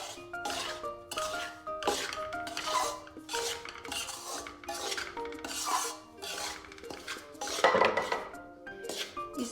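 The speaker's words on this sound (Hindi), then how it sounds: "घी एक प्याली हम इसमें ऐड करेंगे" A cup of ghee goes into flour in a metal pan for halwa, with a spoon repeatedly clinking and scraping against the pan in a close, lively rhythm.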